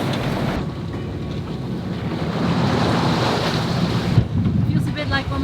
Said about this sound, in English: We were also riding the waves this much.